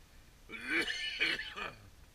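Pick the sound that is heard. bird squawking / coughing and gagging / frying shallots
coughing and gagging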